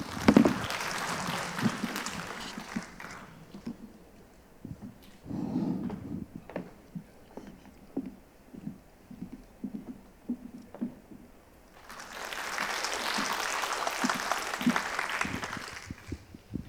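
Audience applause at a residents' briefing on the Daechi Mido apartment reconstruction, a roomful of clapping at the start, then a quieter stretch with scattered noise and low talk, then a second loud burst of clapping near the end.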